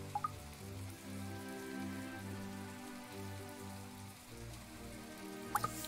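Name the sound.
rain falling in the video game My Time at Portia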